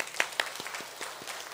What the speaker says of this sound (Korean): 우리 하나님께 영광의 박수 올리도록 하겠습니다.